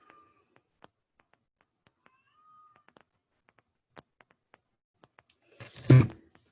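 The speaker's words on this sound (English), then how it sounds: "Can you hear the cat in the background or no?" A single short meow from a cat sounds near the end, loud and clear, after a stretch of near silence broken only by faint clicks and taps.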